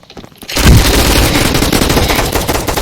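Rapid automatic gunfire from a gun in the Roblox video game starts suddenly after a brief quiet moment and continues as a loud, dense, unbroken stream of shots.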